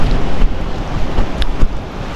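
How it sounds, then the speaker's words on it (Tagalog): Wind buffets the microphone out on the sea during a fishing trip, a loud rumbling roar with the wash of waves beneath it and no one talking. "nandito ulit tayo sa dagat"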